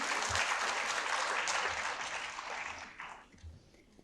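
An auditorium audience applauds in a dense burst of clapping that gradually thins and fades out over a few seconds.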